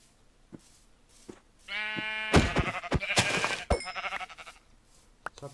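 Sheep in Minecraft bleat several times in quick succession, loud and close, with clicks and game sounds scattered before and after.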